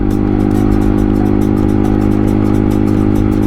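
A motorcycle rides steadily along a quiet backroad toward Porac, Pampanga, its engine droning loud and close with an even, continuous hum and rhythmic wind buffeting, no talking.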